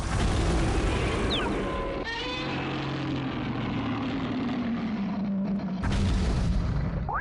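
Generators exploding in a Godzilla video game produce a sustained, heavy rumbling roar with a sharp burst of noise near the end, loud and continuous with no talk.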